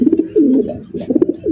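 A Danish pigeon coos close by in a short series of soft, throaty pulses, with a brief pause in the middle before the cooing picks up again.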